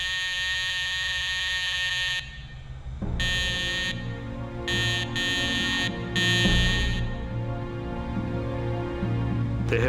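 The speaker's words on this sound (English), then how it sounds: "They have an alarm next to their bed, and they were using this alarm each 5 or 10 minutes" An elderly patient's bedside call alarm in a care home buzzes loudly and continuously, its harsh pulsing tone cutting in and out in irregular bursts, with no talk over it.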